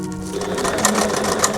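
A sewing machine stitches a seam on an upcycled fabric peg bucket, running forward and then reversing in a steady close mechanical whir with rapid needle clatter.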